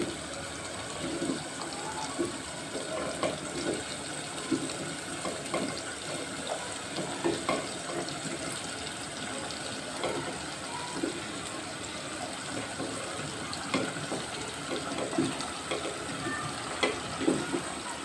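Sliced potatoes fry in a pan for a winter breakfast, giving a steady, moderately loud sizzle and bubbling that runs throughout, with small crackles and faint stirring, and no talking.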